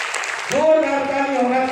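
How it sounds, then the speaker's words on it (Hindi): An audience applauds loudly at a Freedom Plus plan event, with a broad clapping wash that a speaking voice soon overlaps and partly covers. "जोरदार ताली होना चाहिए ऐसे सिस्टम के लिए।"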